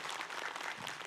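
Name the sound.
applause from audience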